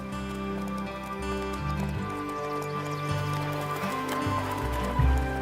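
Wild American mustangs clip-clopping on their hooves, a steady rhythmic patter of hoofbeats running throughout against a sustained tonal backdrop, with a louder beat near the end.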